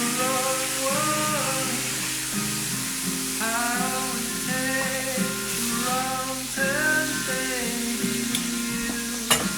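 Pork chops sizzling and frying steadily in a pan, a continuous crackling hiss with occasional stirring or turning, under faint background music and no talk.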